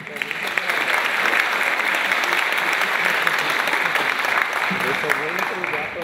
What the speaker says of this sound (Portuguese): gostaria que vocês o recebessem com palmas